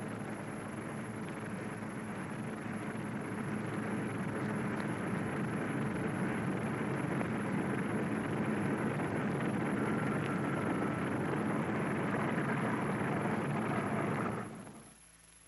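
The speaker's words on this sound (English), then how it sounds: "bomber ready, it moves off to wait its takeoff time under double guard." A Cold War era bomber taxiing toward takeoff, a broad, steady engine roar and rumble that holds loud and constant for about fourteen seconds before quickly dropping away.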